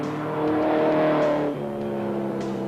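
A 1958 Porsche Speedster race car competing in the up to 2.6 litre thoroughbred class on a Targa Tasmania tarmac rally stage, its engine droning loud and steady before the revs drop sharply, close by.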